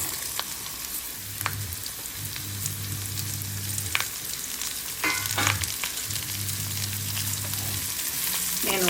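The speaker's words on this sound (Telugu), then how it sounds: "ఈ క్యారెట్ ముక్కలు కూడా ఇందులో వేసుకుని ఒక్క రెండు నిమిషాల పాటు ఆయిల్లో ఫ్రై చేసుకోవాలి" Carrot pieces and onions fry in oil in a pan for a carrot masala curry, a steady close sizzle broken by scraping stirs, with a low hum running beneath in stretches.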